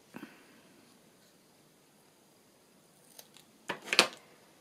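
Scissors snip paper for handmade collage tags, a few faint close crisp cuts, one near the start and a cluster of sharper snips toward the end, in an otherwise quiet room.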